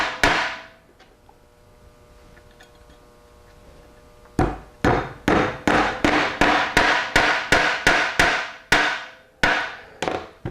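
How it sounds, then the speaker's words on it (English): A brass hammer drives two pins into a Powerglide transmission case, about a dozen sharp metallic blows striking in a steady rhythm, close and loud, after a few seconds of quiet. "let me hammer both of these pins in place. I'll just use this brass hammer here"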